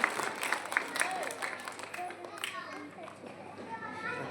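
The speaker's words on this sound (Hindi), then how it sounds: "सोनी मैम का भी जोरदार तालियों से स्वागत कीजिए।" Applause from a school audience welcomes a teacher onto the stage at a guest-welcome and lamp-lighting ceremony, a dense steady clatter of clapping mixed with children's chatter and voices throughout.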